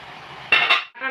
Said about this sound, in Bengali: 15 মিনিট পর এখন আমি ঢাকাটা খুলে নেব